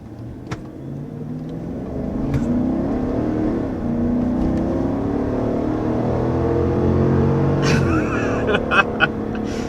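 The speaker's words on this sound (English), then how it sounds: "let's go ahead and hop into that 2021 test drive and show you what this Yukon is like behind the wheel" A 2021 GMC Yukon Denali SUV cruises on a test drive, giving a steady low engine and road drone from the cabin with a few brief clicks and rattles near the end.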